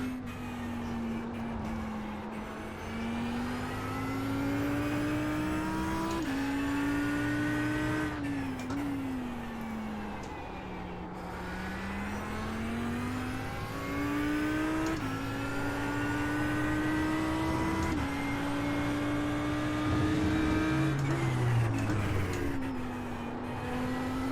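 A GT3 race car in a racing video game laps Interlagos, its engine note rising through the gears and falling under braking over and over, with faint tyre noise throughout at a low, even level.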